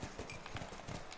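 In the video game The Last of Us, horse hooves clip-clop in a quick, steady rhythm, faint and brief, with no talking.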